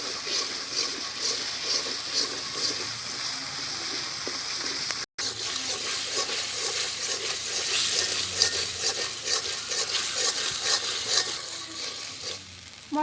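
Spices with ginger paste and a splash of water sautéing in a pan for the Bengali dish doi potol, a continuous soft sizzle and frying hiss with occasional stirring scrapes, close and steady, no talk.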